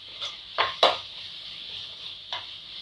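A spoon stirs mint and coriander into a pot of mushroom biryani, making a few sharp metallic clinks and scrapes against the pot, with quiet gaps between them.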